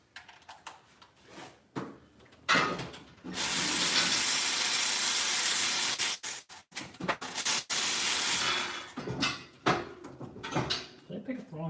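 A socket wrench ratchets on a Camaro in irregular bursts of rapid clicking, with one long sustained stretch of rattling in the middle. Scattered handling clatter fills the gaps between bursts.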